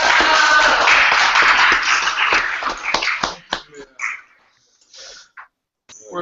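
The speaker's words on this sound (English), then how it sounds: "Give them a nice little round of applause." An audience at a gathering applauds, a dense wash of clapping that holds for about three seconds, then breaks into scattered claps and voices before dropping to near quiet.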